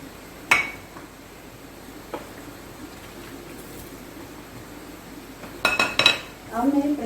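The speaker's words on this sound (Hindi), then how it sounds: "अब मैं प्रेशर कुकर बंद करती हूँ" Metal pressure cooker lid being fitted and closed while beef boti cooks with tomatoes and green chillies: a sharp clank near the start, a lighter tap, then a cluster of metallic clatters and scrapes toward the end over a quiet kitchen background.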